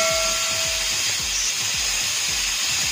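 A pressure cooker on a stove whistles while pulao cooks, releasing a loud, continuous, hissing jet of steam with a faint low pulsing rattle underneath.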